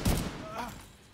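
A Vector submachine gun with a very high fire rate rattles off a short, fast burst in The Division 2, loud and close, and a voice talks over it.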